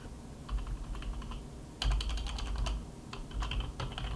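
Someone types on a computer keyboard while entering text in a word processor, quick close key clicks in uneven bursts over a faint room hum, with no talking.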